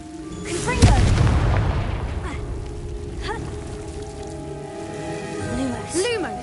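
A Confringo blast spell goes off in a video game with one sharp, loud boom early on, then a rolling rumble that fades out. Softer magical whooshes and a voice-like sound follow.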